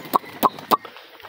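Pigeons gather on Eid morning to eat scattered wheat. Three short, sharp bird sounds come in quick even succession close by, then fade into quiet.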